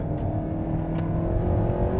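Alpine A110R sports car driving hard on the Jarama circuit under heavy braking, its engine a steady loud drone with close, continuous mechanical roar and no talk.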